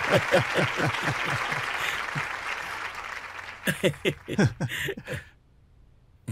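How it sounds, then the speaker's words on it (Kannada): A studio audience at a televised courtroom-style talk show claps in a brisk, rhythmic unison for about three seconds, then the applause fades and a person speaks in short bursts before a pause. "ಇದರಲ್ಲಿ ಚಪ್ಪಾಳೆ ತಟ್ಟುವಂಥ ವಿಷಯ ಏನಿರಲಿಲ್ಲಪ್ಪ"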